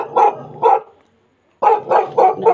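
A dog at a neighbour's open doorway barks loud and close, two sharp barks, a short pause, then a quick run of three or four more.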